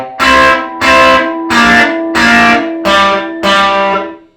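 Electric guitar plays a blues lick with double stops on the 3rd and 2nd strings: six loud, sustained, distorted strums in an even rhythm, close and alone.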